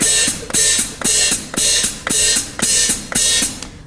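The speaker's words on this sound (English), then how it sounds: "This is something called the toe-heel splash technique." Hi-hat cymbals played with a toe-heel splash on a drum kit: the heel splashes the cymbals open and the toe closes them, giving eight evenly spaced bright washes, each cut off sharply, in a steady loud rhythm.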